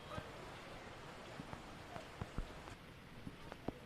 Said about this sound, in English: Yes, the rain certainly has slowed down a bit, Reshwan